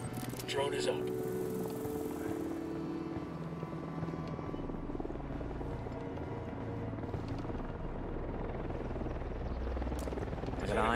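A surveillance drone flying in the video game Ghost Recon Wildlands gives a steady, droning rotor whir that runs the whole time under a busy mix of game noise and talking voices.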